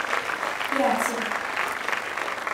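A crowd at an awards evening applauds steadily and moderately loud, with a single voice speaking briefly over the clapping.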